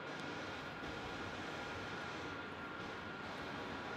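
A Jetstar Airbus A320neo arriving at Melbourne Airport, heard as a steady, distant broadband roar of jet engines that stays even throughout, with no voices.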